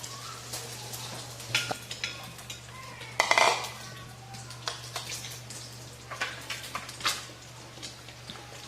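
Plates and dishes clink and clatter quietly as they are handled, with scattered soft knocks and taps over a low steady hum.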